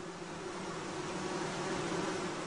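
Honeybees from a colony hum around their hive in a dense, continuous drone with a steady low pitch, close and unbroken, with no voices.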